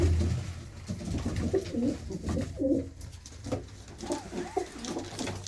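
A loft full of pigeons gives off a continuous chorus of low, throaty coos, close and steady throughout, with several birds calling over one another.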